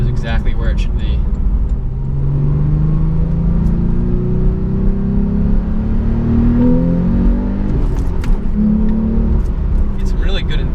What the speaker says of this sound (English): Get some really good induction sound when you really put the foot down.